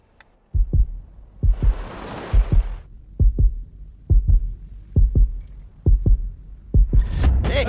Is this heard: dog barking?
no